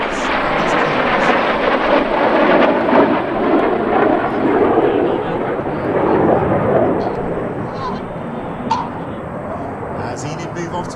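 Loud, continuous roar of RAF Red Arrows display jets performing a corkscrew manoeuvre at the New York International Air Show, a broad sustained rumble swelling and fading as the aircraft pass, with a commentator speaking over it.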